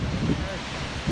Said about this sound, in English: I think we're arriving to the next waterfall because obviously we can hear it